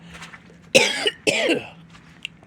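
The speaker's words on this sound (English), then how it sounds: "First cough." Two sharp, loud coughs in quick succession, close to the microphone, with quiet background before and after.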